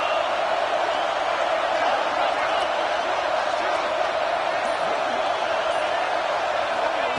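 A football stadium crowd at a Clemson game roars steadily behind the defense trying to get a red-zone stop; the dense, broad wash of cheering holds at an even, loud level throughout.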